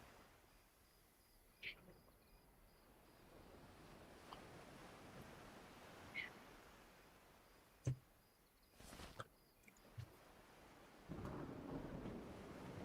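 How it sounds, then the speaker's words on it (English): Rain and thunder in the video game Monsters & Memories: a steady, faint hiss of rainfall runs throughout, broken by a few soft thuds and cracks and a low rumbling swell near the end, all quiet and distant. "And it's raining."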